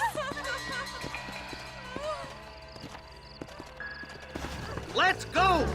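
Horses in the Western video game Red Dead Redemption, rhythmic hoof clip-clop with neighs and whinnies rising near the end, under background voices.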